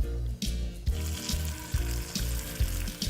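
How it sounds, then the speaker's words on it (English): Trout or salmon fillet frying skin side down in hot butter in a pan, a steady close sizzle with small crackles and brief bursts of spattering throughout, no voices. "Get the butter hot and lay the fish down"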